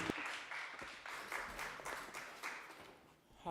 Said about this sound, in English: A big applause to Silvia Martin Deldago.